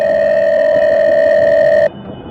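A loud, steady electronic telephone tone sounds close up, holding unbroken for nearly two seconds before it cuts off abruptly into faint background noise.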